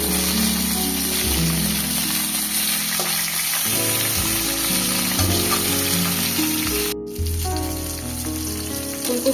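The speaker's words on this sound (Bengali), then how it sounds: "আলুটা হালকা করে একটু ভেজে নেব।" Potatoes fry lightly in hot oil with a continuous close sizzle and crackle, briefly interrupted by a quick dropout, then resuming with stirring noise and no talking.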